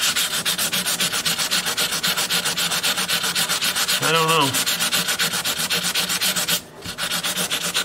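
Sandpaper of 220 grit rubs steadily back and forth across the remaining finish on a custom Rosa 12-string dreadnought guitar, close and continuous, with one brief pause near the end. A voice speaks briefly partway through.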